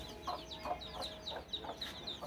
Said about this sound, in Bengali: এইখানে হচ্ছে আমার ফার্মে মুরগি